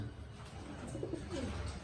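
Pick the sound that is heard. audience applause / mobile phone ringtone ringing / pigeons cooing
pigeons cooing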